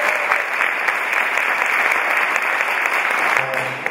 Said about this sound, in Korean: 오늘 저희들에게 좋은 강연을 해주신 두 분께 큰 박수.